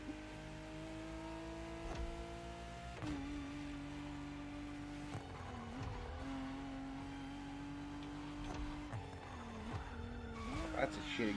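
Car engine drone in a racing video game, with sustained tire squeal as the car drifts through corners, pitch shifting with revs; a person talks over it.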